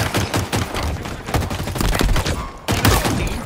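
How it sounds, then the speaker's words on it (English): Rapid gunfire in a Halo Infinite multiplayer match, dense loud bursts of shots crowding together with a brief pause before another heavy volley. "Shooting."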